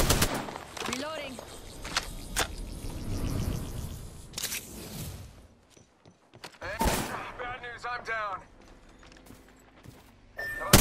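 Gunfire from the Apex Legends video game comes in rapid bursts and sharp single shots amid game effects and voice callouts, with a quieter gap midway before the firing resumes.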